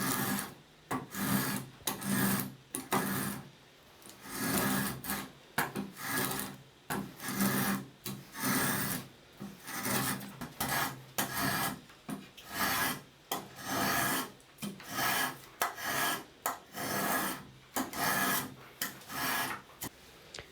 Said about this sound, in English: moved on to shaping the handle using my spoke shave.